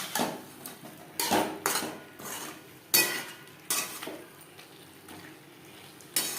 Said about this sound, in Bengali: মশলার সাথে আলু পটল বেশ ভালো করে মিক্সড করে দেবো